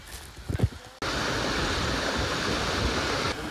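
The Pinaisara waterfall roars as a loud, steady, broadband rush that bursts in after a second of wind buffeting and handling noise, then continues unbroken and close.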